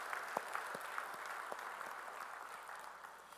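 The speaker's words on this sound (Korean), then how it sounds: "우리 찬양을 받으신 주님께 영광의 박수 올리겠습니다." A church congregation gives a steady round of applause after a hymn, a continuous even texture of many hands clapping at moderate distance, with a few louder individual claps.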